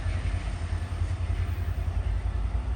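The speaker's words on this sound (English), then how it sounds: "here comes my train for Toronto" A GO Transit Lakeshore East train pulls into Oshawa station, a steady loud low rumble with faint wheel clatter that carries on throughout, no voices.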